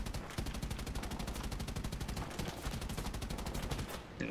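Rapid, sustained bursts of heavy machine-gun fire from the nose-mounted .50 caliber guns of an XP-50 fighter in War Thunder, loud and continuous for several seconds before cutting off.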